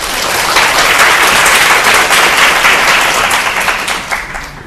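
Sustained audience applause fills the hall after a CEO lecture for university students, dense and steady clapping from a large crowd that tapers slightly at the end.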